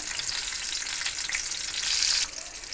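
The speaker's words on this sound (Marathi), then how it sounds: "मिरच्यांची एक साईड पूर्ण तळून झाली आहे. आता आपण दुसरी साईड तळून घेऊ." Stuffed green chilies frying in oil in a pan on low heat, a loud dense hiss of bubbling oil heard close, swelling briefly near the end before easing back, with no talk.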